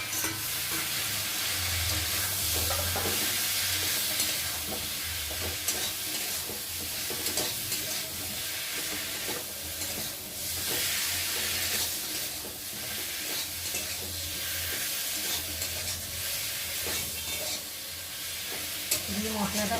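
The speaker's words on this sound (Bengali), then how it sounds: "দিয়ে মশলাটা ভালোভাবে কষিয়ে নেবো।" Spice paste of ground chilli and spices, ginger, cumin and onion pastes with chopped tomato, being stirred and fried in a pan for fish curry: steady close sizzling with repeated scraping stirs throughout, no talk.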